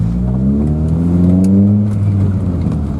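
A car engine with a ported intake revs and accelerates loudly and up close, its pitch rising smoothly over a few seconds with no talking.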